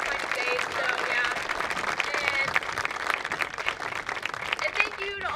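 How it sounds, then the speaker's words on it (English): Audience applause for Mr. Stalter at a 2021 EHS spring band concert, with steady clapping from the crowd and voices chattering and calling out over it. "Let's all give a huge round of applause for Mr. Stalter."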